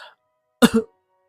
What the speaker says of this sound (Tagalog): tawag ng ina habang dahan-dahang umuubo.